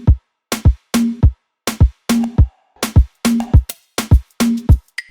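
A bouncing reggaeton beat of kick and snare hits in an Afrobeats-style drum pattern, now filled out with extra percussion such as tight clicks and shakers between the main strikes.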